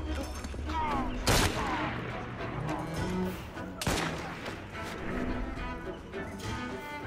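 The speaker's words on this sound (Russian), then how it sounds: "Кто стреляет, ты пойми, вот это что ли?" Gunfire in the Assassin's Creed Syndicate video game: sharp, loud shots, with two prominent blasts and scattered smaller pops over a busy background of game noise and some voices.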